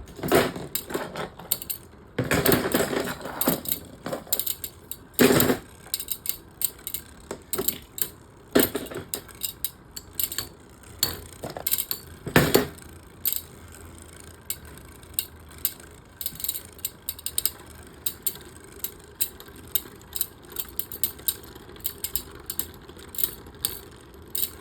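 Beyblade spinning tops whirring and clattering in a stamina battle at a Metal Fight Beyblade 4D tournament, a steady mechanical ratcheting hum with scattered sharp clicks and collision bursts, close and moderately loud.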